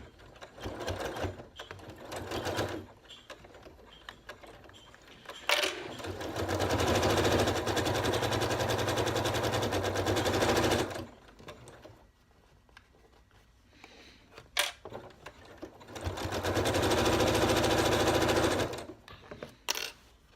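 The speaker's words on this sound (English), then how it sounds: "let's just sew this" A sewing machine stitching a folded mesh bag, running in two long sustained bursts of rapid mechanical whirring separated by quieter pauses with small handling noises.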